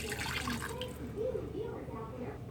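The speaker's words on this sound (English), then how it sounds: "I'm going to use 1 1/4 cups of water." Water pours from a measuring cup into a pot while homemade face lotion is being mixed, a soft, steady trickle lasting a couple of seconds, with a person speaking quietly over it.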